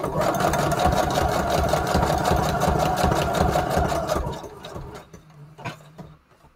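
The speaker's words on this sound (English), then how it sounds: "So let's do zigzag stitch." A sewing machine runs a zigzag stitch while decorating a junk journal, a rapid rhythmic mechanical chatter that runs steadily for about four seconds, then stops, leaving a few faint handling clicks.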